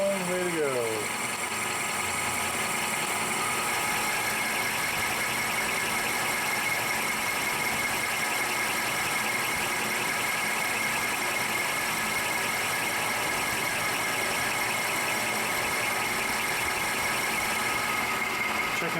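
A milling machine faces a steel pressure plate for a Kurt vise, giving a steady, loud mechanical drone with a high cutting whine throughout and a brief pitch sweep at the start.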